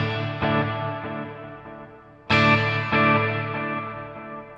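Electric guitar volume swells through a delay pedal with reverb, two soft-attack sustained chords fading slowly with repeating echoes trailing behind each, clear and alone with no talking.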